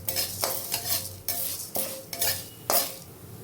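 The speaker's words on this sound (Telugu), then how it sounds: "1/2 స్పూను మెంతులు, 1 స్పూన్ చిన్న స్పూన్తో జీలకర్ర మొత్తం వేగాలండి" Fenugreek seeds and cumin seeds frying in a pan, with a utensil scraping and stirring in repeated strokes about every half second, close, over a light sizzle and with no voices.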